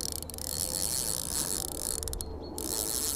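A fishing reel's drag ratchets in a steady, rapid clicking run as a fish strips line out far across a lake, close to the microphone and continuous with no talk.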